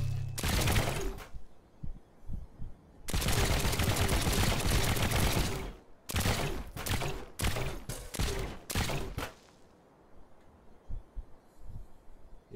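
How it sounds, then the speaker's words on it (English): Rapid automatic gunfire from a G18C pistol in the building game TrailMakers, fired in several loud bursts of varying length separated by short silences, with no talk. "now that I'm here, I can try out the G18C by Mad Panpan"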